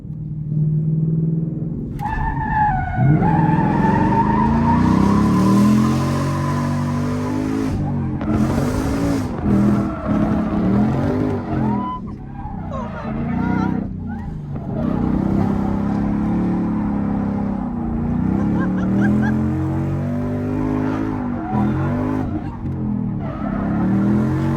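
A 2020 Ford Mustang GT drift car with a welded differential revs hard while its tires squeal and skid in long wavering bursts, the engine rising and falling throughout a loud test drive.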